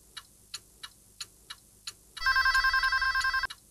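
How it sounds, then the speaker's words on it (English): A telephone in a kitchen: a clock-like series of evenly spaced ticks is followed by a loud, bright bell ring lasting about a second, which then stops abruptly. "waiting for that phone to ring"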